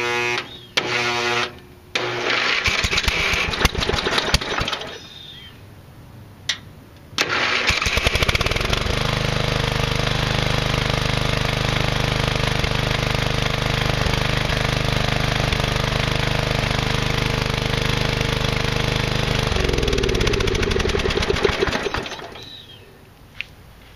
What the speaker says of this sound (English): That's the two fastest ways that I know of in order to hotwire and get a flathead Briggs up and running, single cylinder.